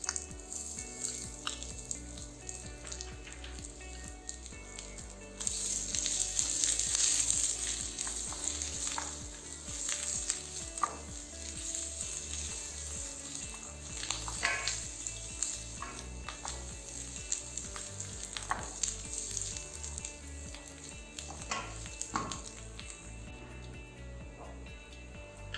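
Chopped ginger and garlic fry in hot oil for a Thai massaman curry, giving a steady, fairly loud sizzle that runs the whole time, with a few utensil scrapes and taps standing out now and then.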